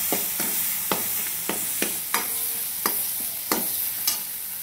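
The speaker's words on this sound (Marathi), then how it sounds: "वाटण चांगलं परतून घ्यायचं" Green chili paste sautés in hot oil with cumin for a potato dish, a steady close sizzle broken by about eight sharp spatula scrapes against the pan at a regular, unhurried pace, with no voices.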